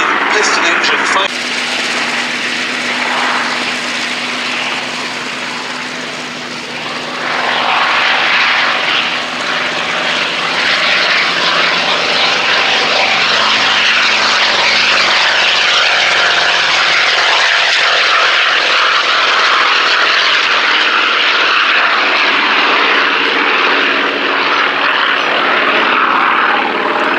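Piston-engine fighter aircraft flying at the 2017 Duxford Battle of Britain Air Show, a loud propeller engine drone that swells after a few seconds and holds steady and close for the rest of the clip, with a brief voice early on.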